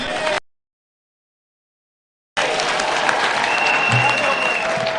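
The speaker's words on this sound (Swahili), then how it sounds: "Aya, tusidikize Wajackoya na makofi." An audience at a public speaking event breaks into applause for a speaker, a brief clap before a gap of silence, then a sustained close wash of crowd clapping.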